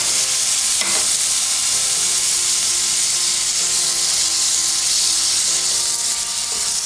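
Tomatoes dropped into a pan of sautéed onions, a loud, close, steady sizzle with a hissing steam wash and brief stirring scrapes.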